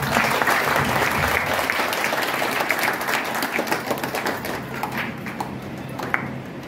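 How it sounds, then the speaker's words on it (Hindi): A seminar audience bursts into loud, dense clapping that holds steady for several seconds, then thins slightly toward the end, with faint voices underneath. "एक बार जोरदार ताली बजा सकते हैं हम लोग।"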